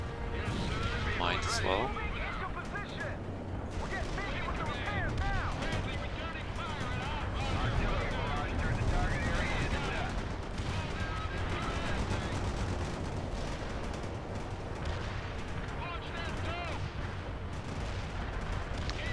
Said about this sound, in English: So just put down some artillery there.